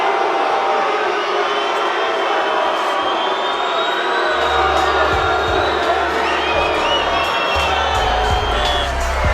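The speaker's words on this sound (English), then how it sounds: "The sold-out crowd here at the Orleans Hotel and Casino." A sold-out fight crowd at the Orleans Hotel and Casino roars and cheers after a split-decision title result, a dense, loud, continuous wall of voices with whoops rising above it throughout.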